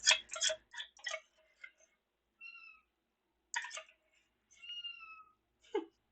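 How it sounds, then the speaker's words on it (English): A hungry cat meows repeatedly for food, with short thin cries between soft clicks and rustles of feeding preparation, close and fairly quiet. "I don't know if you guys can hear her yelling for her food,"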